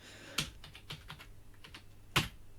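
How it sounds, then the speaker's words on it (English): Typing on a computer keyboard, a few soft scattered keystrokes with two sharper clacks, close but quiet, with no voices. "Then we would type in our IP address to the Kali machine."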